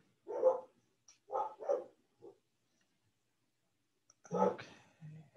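Dogs bark in short, separate woofs, a pair close together, then a single one, a pause of silence, and another burst of barks, fairly distant and muffled with nothing else audible.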